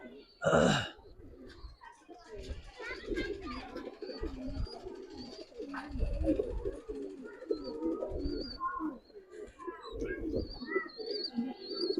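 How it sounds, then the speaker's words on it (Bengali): Giribaz pigeons coo in low throaty murmurs, with a sharper call near the start and some faint chirps, while voices are heard nearby. "আজকে সবগুলো কবুতরে কিন্তু ম্যাক্সিমাম খুব ভালো ডাকে"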